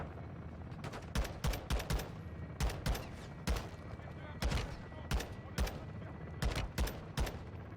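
Bursts of gunfire from Call of Duty: Modern Warfare 2 single-player campaign, several loud automatic volleys and single shots in irregular clusters, with faint talk underneath.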